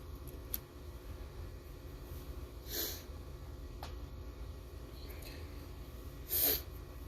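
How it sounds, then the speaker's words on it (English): A couple of short nasal sniffs stand out against a steady low background hum, brief and fairly close, with quiet gaps between them. "Excuse the sniffles, y'all."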